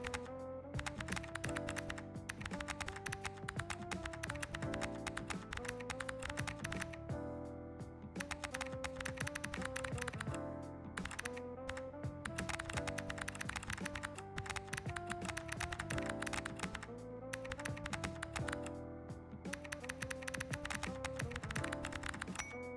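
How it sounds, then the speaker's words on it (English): Close, soft computer keyboard typing in an ASMR setting, with steady rapid key clacks running continuously under faint background music. "The ASMR keyboard sounds."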